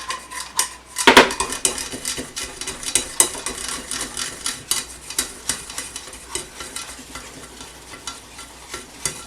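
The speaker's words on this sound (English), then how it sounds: "I'm going to whisk this stuff up here." A whisk beats ingredients in a bowl, rapid irregular metallic clicks and scrapes against the sides, close and fairly loud at first, then settling into a steady rhythmic tapping.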